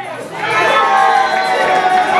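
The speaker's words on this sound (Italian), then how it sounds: "Facciamo il tifo per la squadra di Sant'Andrea." A crowd at a village palio cheers and shouts for a team, a loud dense burst of many voices close by.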